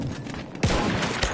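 Several rapid gunshots fired at an enemy in a PS4 shooter video game, a loud burst starting partway through after a quieter stretch of game ambience.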